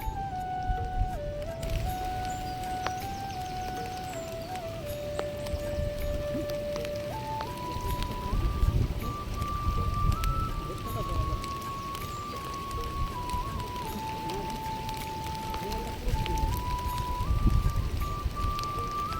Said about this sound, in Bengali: দেখো আকাশে বৃষ্টিও পড়ছে